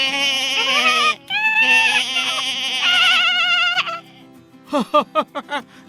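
In a cartoon retelling of the boy who cried wolf, sheep bleat loudly and up close, first in long quavering cries and then in a burst of short, rapid bleats.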